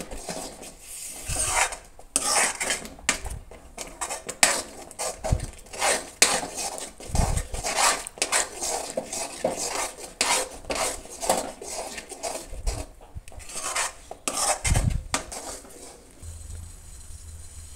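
Semolina is stirred and cooked over a low flame for laddoos, with a spoon scraping and rasping against the pan in repeated strokes and occasional metallic knocks, close and fairly loud throughout.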